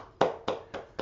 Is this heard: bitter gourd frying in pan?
no